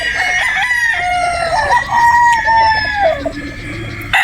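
A broodstag gamecock crows loudly and close, its call rising and trailing off in a long drawn-out cock-a-doodle-doo, with a few clucking notes from other fowl in the background and no talk.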